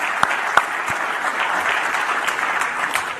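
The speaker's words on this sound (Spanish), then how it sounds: "Un aplauso para ellos." An audience claps during a presidential address by Santiago Peña, a loud, dense burst of applause from a large crowd, with a few sharper individual claps standing out near the start.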